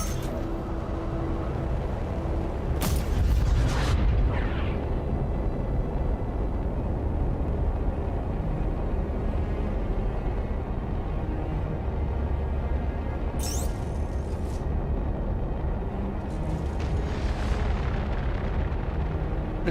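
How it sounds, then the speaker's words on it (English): Torpedo explosions in Elder Scrolls Online, two heavy booming bursts a few seconds into a constant rumbling battle din, another blast later, with no talking. "What is that? That's a torpedo."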